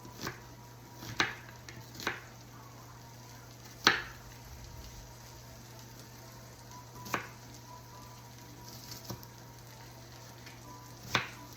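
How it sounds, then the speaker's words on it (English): Knife chopping a white onion on a cutting board, several sharp separate strikes spaced a second or two apart over a steady low hum, no talking. "So I got a white onion. Let's cut that up."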